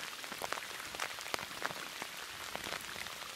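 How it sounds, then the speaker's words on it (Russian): Rain falls on an outdoor fishing spot, a steady hiss with scattered close drops tapping irregularly on nearby surfaces, no voices present. "Я вот в такой дождь"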